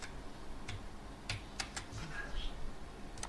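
Control and Tab shortcut keys pressed on a computer keyboard, giving a few scattered, crisp key clicks over a steady background, with a voice talking faintly underneath.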